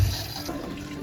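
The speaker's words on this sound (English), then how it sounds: "we went inside and opened each tap until they ran clear" Water rushing from taps inside an RV as the lines are flushed clear, a brief steady gush of running water heard alone at moderate volume.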